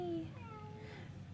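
A domestic cat lets out one faint meow with a falling pitch. It sounds fairly close and sits over a low steady hum indoors.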